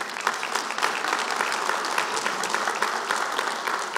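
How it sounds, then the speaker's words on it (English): An audience at a county budget address applauds, steady dense clapping from a crowd in a hall, continuous and fairly loud throughout. "It's okay to clap on the good stuff"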